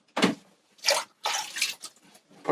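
Hands splashing in a bucket of water, close up, in four or five separate wet bursts with short quiet gaps between them.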